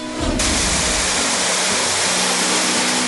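Kilab-Kilab Falls in San Isidro, Bohol, pours as a loud, steady, dense roar of falling water that fills the whole stretch without any pause.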